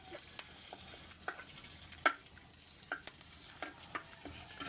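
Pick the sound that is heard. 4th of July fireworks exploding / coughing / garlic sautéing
garlic sautéing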